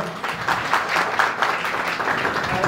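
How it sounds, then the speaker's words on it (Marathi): A crowd at a school welcome gathering claps loudly and continuously, a thick wash of many hands throughout with no voices over it. "जोरदार टाळ्या व्हायला पाहिजे"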